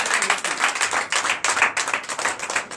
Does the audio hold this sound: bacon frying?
no